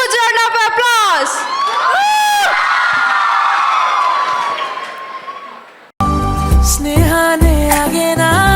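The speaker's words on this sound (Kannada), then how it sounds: "Now let's welcome Dirga and team for a dance with a huge round of applause." Loud crowd cheering and whooping at a college cultural festival as a dance team is welcomed, shouts rising over a steady roar for about six seconds before music cuts in.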